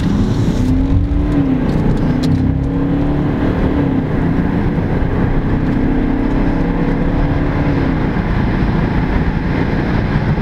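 A car cruises along a motorway in sport mode, with steady loud road and engine roar throughout and a faint rising engine tone in places, no voices.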